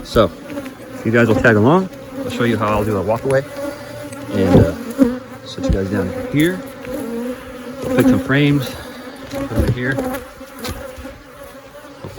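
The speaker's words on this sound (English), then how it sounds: "Pardon the bee noise." Honeybees drone steadily around an open hive crowded with drones during a walkaway split, a dense close buzz running under someone talking throughout.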